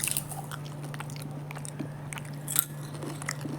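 Crispy steamed ivy gourd vathal (kovakkai vathal) is bitten into close to the mic, giving a few quiet crunches over a steady background hum.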